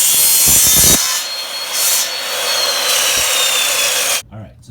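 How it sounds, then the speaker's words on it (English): Hand saw cutting through pipe held in a miter box set at 30 degrees, steady close back-and-forth rasping strokes that run for several seconds and stop abruptly near the end. "So we have the miter box already set to 30 degrees,"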